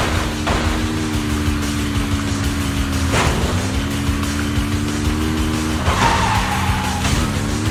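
Car tires skid and squeal repeatedly over a steady engine drone during a race in Zenless Zone Zero, with sharp screeches returning every few seconds, loud and close, no talking.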